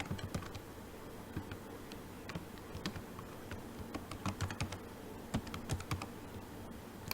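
Steady typing on a computer keyboard, close and crisp, with rapid uneven key clicks and occasional louder taps over a quiet background.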